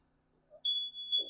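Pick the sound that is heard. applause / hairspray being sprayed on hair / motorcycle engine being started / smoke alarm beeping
smoke alarm beeping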